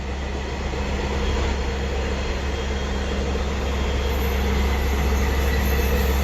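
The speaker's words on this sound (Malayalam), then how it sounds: "നല്ലൊരു വ്യൂ ആണ് കേട്ടോ ഇവിടുന്ന് ട്രെയിൻ കാണാൻ." A morning train passing near the NH66 highway at Hosangadi: a steady, even rumble that holds throughout at moderate distance, with no voices.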